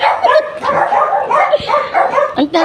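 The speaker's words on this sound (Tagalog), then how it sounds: "Ang maingay yung aso mo?" A dog yips and barks in short, close, loud bursts with whimpering tones between them, filling the brief moment with no talk.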